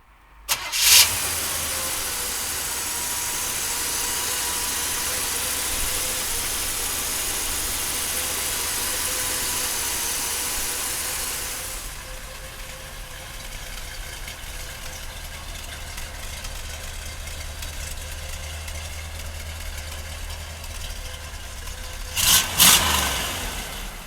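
A 1963 Chevrolet Corvette split-window with its numbers-matching engine cranks and fires up, then settles into a steady, loud idle that eases slightly midway before a brief blip of revs near the end.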